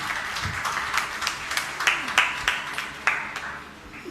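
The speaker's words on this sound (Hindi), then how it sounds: "एक बार जोरदार ताली बजा दीजिए।" Audience applause at a Jain religious question-and-answer gathering with a guru, a dense steady wash of clapping with several sharper individual claps standing out, moderately loud throughout.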